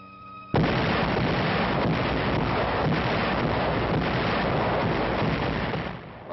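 Allied artillery guns open fire along a front of German-held heights in Italy in 1944, a dense, continuous roar of booming barrage and rumble that begins abruptly after a brief hum and fills the whole stretch at full loudness.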